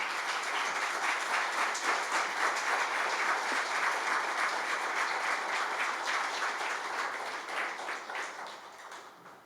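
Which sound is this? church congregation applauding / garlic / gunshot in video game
church congregation applauding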